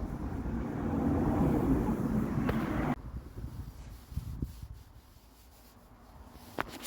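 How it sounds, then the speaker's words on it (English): Steady rubbing and wiping of a tack cloth on a car wing panel, loud at first, then softer with scattered light scuffs and taps. "Just using a tack cloth here to try and get rid of all the crap off the wing"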